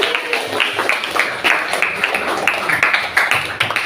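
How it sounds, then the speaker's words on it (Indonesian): A classroom of children clapping their hands together, a steady run of brisk, dense claps that stays loud and close throughout with no talking over it. "Tepuk tangan untuk kita semua."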